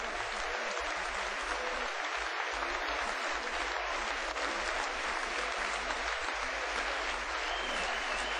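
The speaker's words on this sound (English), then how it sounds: "Just listen to that applause as Keith Millen's voted Supporters Player of the Year" Spectators at Brentford's football ground applaud during a 1992 Brentford v Fulham match, a steady, broad wash of clapping from a large crowd that holds evenly at a moderate distance throughout.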